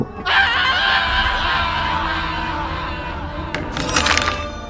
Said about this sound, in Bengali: হঠাৎ চিৎকার শুনে